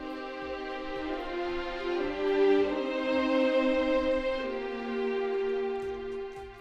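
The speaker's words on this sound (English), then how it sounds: "violin 1 actually playing an idea with violin 2" Two violin parts play a sustained, legato melody in harmony, the second violin voicing a line beneath the first against a soft pulsing low accompaniment, with no talking.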